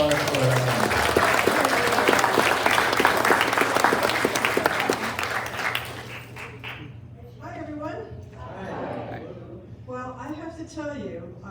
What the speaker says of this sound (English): So please give me a round of applause for her.